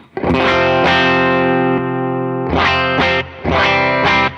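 Electric guitar played through a pedalboard with Tone Press and Superbolt pedals engaged and the Superbolt toggled: loud, distorted, chorus-tinged chords ring out and sustain, then several fresh strums follow in quick succession, alone without talk.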